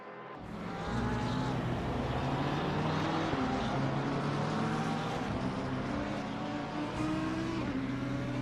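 A GT race car in Assetto Corsa Competizione rolls down the pit lane at Zandvoort, its engine a steady, fairly close droning hum that holds level for several seconds after a quick rise at the start, with no talking.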